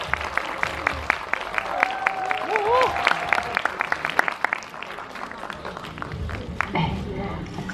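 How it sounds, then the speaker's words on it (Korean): Audience applause at a film Q&A in a cinema, greeting the music director with steady rhythmic clapping, with a voice and brief tonal sounds rising over the claps partway through. "뜨거운 박수 부탁드리겠습니다."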